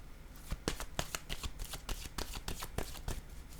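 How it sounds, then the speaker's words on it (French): Playing cards handled from a deck: a quick series of crisp, close clicks and flicks, about a dozen in a little over three seconds, with no talk. "Donnez-moi une minute, je vais piger une carte."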